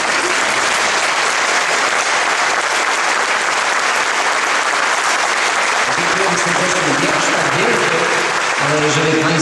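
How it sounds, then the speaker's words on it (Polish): Audience applause fills a concert hall at a philharmonic music evening, a dense steady clapping throughout, with a few voices and cheers rising near the end. "Myślę, że większe brawa, proszę Państwa."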